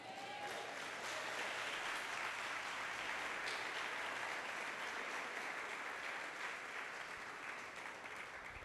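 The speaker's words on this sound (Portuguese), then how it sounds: "Diz amém e dá um aplauso a Jesus." A church congregation applauds for Jesus at a worship service: steady, dense clapping from many hands, sustained throughout at an even volume, with a few faint voices mixed in.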